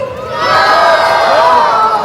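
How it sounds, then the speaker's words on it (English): A loud group of children shouts together in unison, a brief collective yell that swells and holds for about two seconds. "if you yell George 2 after 3, then we would be ecstatic"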